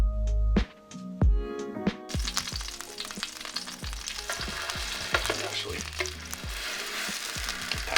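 A full English breakfast fry-up cooking in a pan, loud steady frying broken by a run of sharp clunks and scrapes from utensils at the start, then continuous crackling with repeated knocks throughout.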